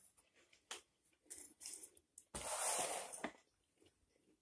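Close, quiet bites and crunching of a thin, crisp black pepper Club Crisps cracker, with a few sharp snaps followed by a louder sustained crunch in the middle, then fading chewing.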